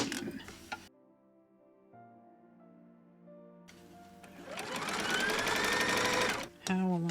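Sewing machine without a thread cutter stitching quilt block pieces, a short whirring run after a quiet pause, with a person talking briefly at the start and end.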